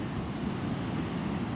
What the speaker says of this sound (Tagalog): Daming hangin.